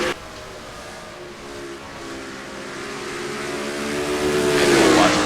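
Race cars in an online racing game at Phoenix, engines droning steadily and building louder as they pass close, with a rising whine near the end.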